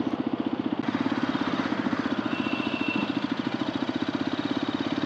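Hero XPulse 210 adventure motorcycle engine during a slow U-turn, a close, steady low throb pulsing evenly and alone throughout.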